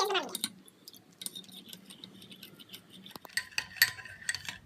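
A spoon stirs a paste of rice and green tea cream with hot water in a bowl, making close, bright clinks and scrapes at an uneven pace, with quieter stretches between bursts of mixing.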